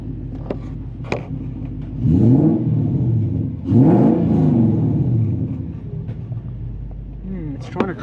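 A Mazda Ute fitted with a 3UZ V8 and A650 five-speed automatic revs in two strong rising surges, then settles to a low idle rumble, with people talking nearby.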